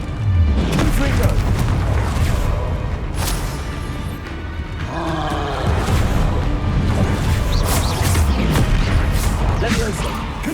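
Confringo blasting spells exploding in the Hogwarts Legacy video game, a dense, loud run of repeated booms and crashes layered over constant game effects with no pause.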